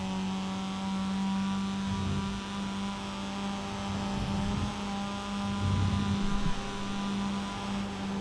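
Race car engines at full throttle in the iRacing simulator at VIR, with MX-5 and TCR cars racing, giving a steady, loud droning hum that swells slightly mid-clip with no talk.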